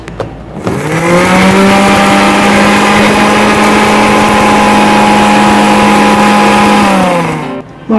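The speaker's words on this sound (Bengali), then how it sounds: "এটাকে এবার আমি গুঁড়ো করে নিচ্ছি" An electric grinder whirs loudly as it grinds roasted fennel, coriander and dried red chillies. It starts with a sudden spin-up, holds a steady high whine for several seconds, then cuts off and winds down.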